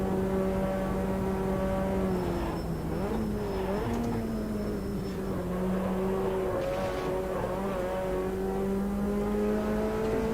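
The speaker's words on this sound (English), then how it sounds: "it's turbocharged obviously, you can hear the chatters and things going on from the wastegates" Turbocharged race car engine in the sim racing game Automobilista 2, droning loud and steady with shifting pitch as the revs rise and fall, with wastegate chatter and a brief high whistle over it, no talk.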